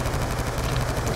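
Rapid automatic gunfire in Call of Duty Black Ops 2 Zombies on the Nuketown map, a loud, dense stream of shots filling the whole moment without speech.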